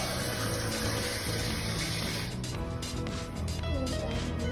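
Warm water pouring steadily into a measuring cup, a continuous close hiss and splash whose pitch shifts slightly as the cup fills, with no talking.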